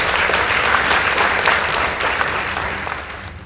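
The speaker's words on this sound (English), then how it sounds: "Please give them a round of applause." A school debate audience applauds a team as the judges announce their score, giving dense, sustained clapping that fills the room and then slowly tapers off over a few seconds.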